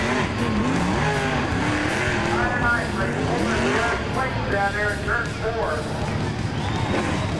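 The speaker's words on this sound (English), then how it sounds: "Burning off some donuts down there in 3 and 4." A dirt-track race car at the Tri-State Summit Summer Nationals spins victory donuts in turns three and four, engine revving and wailing in rising and falling sweeps while an announcer talks over it.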